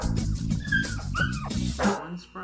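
Dogs at a dog park yip, whimper and bark repeatedly in a lively jumble, close and fairly loud, with several short high cries over a steady background.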